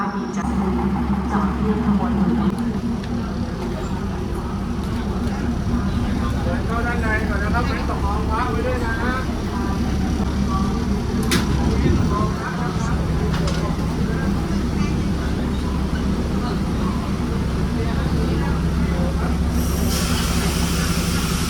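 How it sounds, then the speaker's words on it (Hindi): A Thai local train pulls into a station, with a steady low rumble, rolling wheel clatter and brief metallic squeals close by, while someone talks over it throughout. "भाई ट्रेन आ चुकी है भाई।"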